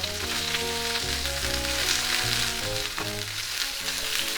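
Prawns frying in hot oil while being flipped, a steady loud sizzle throughout with a brief clatter near the middle, no voices.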